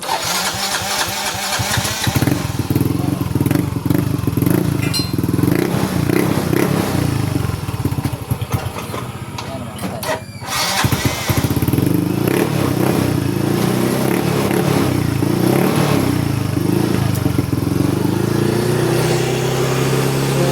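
Yamaha Mio scooter engine cranks and catches, then runs at a loud, steady idle close by, with a short dip midway before settling back into a continuous buzzing drone.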